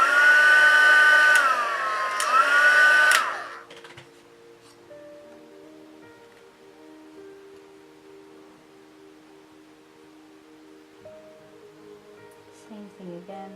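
A heat tool sets paint while legs are shaded, giving a loud steady blowing whir for about three seconds that then cuts off, leaving quiet room tone.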